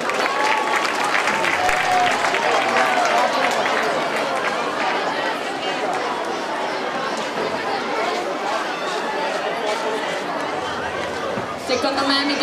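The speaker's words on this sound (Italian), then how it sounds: "un applauso!" Crowd at a final-night show in Italy clapping and cheering for a performer, a dense, loud wash of applause mixed with chatter and voices that carries through the whole stretch before tapering at the end.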